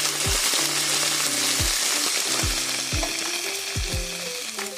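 Ground beef sloppy joe meat with Manwich sauce is stirred in a pan, a continuous close sizzle broken by repeated scraping strokes of the spoon, roughly one every second, with no talking.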